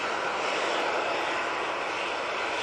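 TUI airliner coming in, engines producing a dense, even roar that stays loud and unbroken from start to finish, with no speech over it.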